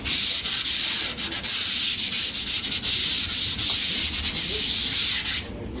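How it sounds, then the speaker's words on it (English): Sanding a primed concrete board before painting an accent wall, a steady dry scraping and rubbing that continues close and loud with short stroke-by-stroke pulses, with no talk. "So I'm going to sand. First thing you keep is sanding."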